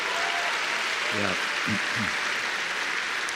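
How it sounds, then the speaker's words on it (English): An audience at a Star Wars Celebration panel applauds steadily in a large hall while someone briefly speaks over the clapping. "please, a round of applause"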